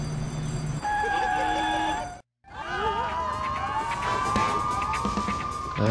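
Police car sirens wail in the video game Lego City Undercover, loud and wavering, with a short silent gap partway through before a rising siren sweep returns alongside game music.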